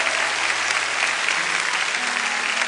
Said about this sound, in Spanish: yo quiero que toda esta iglesia celebre y les dé un aplauso fuerte a todas estas personas